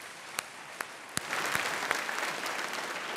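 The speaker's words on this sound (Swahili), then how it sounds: "Ikiwa una furaha, piga makofi pamoja nami" A church congregation at a Sabbath gathering in Africa claps: a few isolated single claps at first, then a fuller burst of applause that keeps going, moderately distant and soft.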